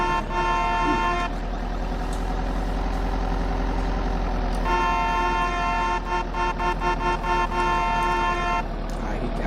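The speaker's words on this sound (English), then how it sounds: "driving a fucking school bus, honking the horn." A school bus horn honks in a video game, two long loud blasts separated by a pause over a steady idling engine drone, with a person talking over it.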